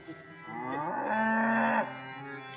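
A cow moos in one long, loud, sustained call that swells and then cuts off, clear and close with no voices over it.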